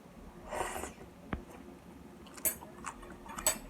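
Homemade garlic sauerkraut is bitten and chewed, giving a few faint, close crunchy bursts spaced apart, with quiet clicks between them.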